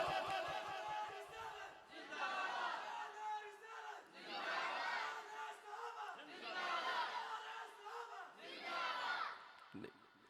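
Large crowd at a madrasa religious gathering shouting a call-and-response slogan, loud unison chants answered in repeated bursts roughly every two seconds, with brief pauses between each shout.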